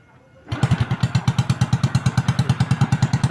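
A motorcycle with a broken push-button starter is kickstarted into life after a short quiet moment, then settles into a loud, rapid, even putter with a rough, throaty exhaust from a cut-off exhaust pipe.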